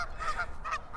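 A pair of close honking goose calls, the second a little later than the first, over a dull low background hum.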